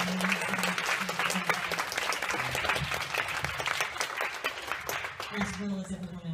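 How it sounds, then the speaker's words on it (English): A crowd gives a round of rapid, sustained clapping, with voices and cheers mixed in, and a spoken voice comes in over the fading applause near the end. "Can we please give him another round of applause?"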